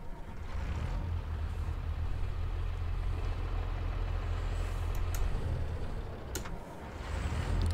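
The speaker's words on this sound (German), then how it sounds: "lass mal den Motor an." Fendt Favorit tractor in Farming Simulator 22 starts up, its diesel engine settling into a low, steady rumble that runs loud and continuous, with a couple of brief sharp clicks near the end.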